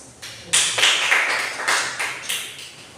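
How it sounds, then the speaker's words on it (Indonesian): A classroom group receives brief applause after presenting in a microteaching session, heard as a short burst of scattered, uneven claps from a small number of people that tapers off within a few seconds. "kita beri aplaus"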